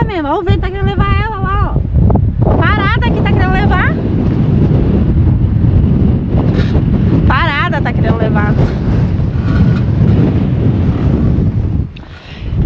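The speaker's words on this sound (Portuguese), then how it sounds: "Olha o vento, tá querendo levar ela." Strong gusting wind on Ruta 40 heading toward Ushuaia roars loudly into the microphone as a loose solar panel is handled, a constant heavy buffeting under excited speech and whistling tones.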